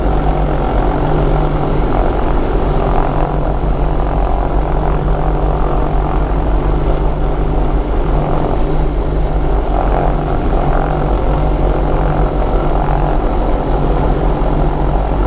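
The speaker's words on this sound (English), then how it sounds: "we'll just go to the last run-up position here, and we'll do a run-up" Twin engines of a Diamond DA42 Twinstar roar steadily at high power during a run-up, a loud continuous propeller drone with a low pulsing hum and no talk, heard close from the cockpit.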